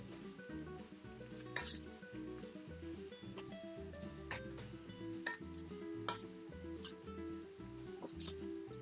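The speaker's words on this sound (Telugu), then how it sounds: "రైస్ యాడ్ చేసిన తర్వాత పెద్ద బండ పెట్టి టాస్ చేసుకోండి కలుపుతూ మంచిగా" Spinach fried rice made with basmati rice and black pepper is tossed in a hot pan. A soft, continuous sizzle runs under a steady rhythm of scraping and clattering strokes.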